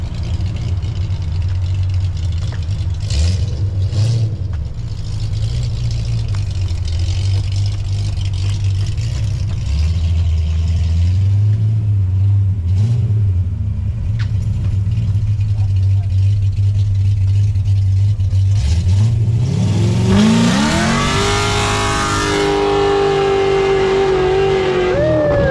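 Car engine close and loud, rumbling and blipping through several revs, then sweeping up sharply in pitch as it accelerates hard near the end.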